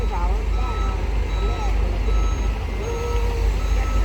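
A Volvo truck reverses with a repeating high warning beep over a loud, rumbling diesel engine, with voices faintly audible in the background.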